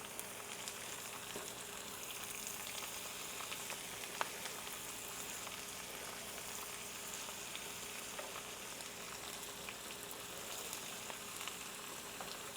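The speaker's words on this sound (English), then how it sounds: "I'm going to take my spatula and try to mix all that good bacon grease and garlic up in the Brussels sprouts" Brussels sprouts fry in bacon grease and garlic in a pan, a steady close crackling sizzle that stays even throughout with occasional small pops and spatula stirring, with no voices.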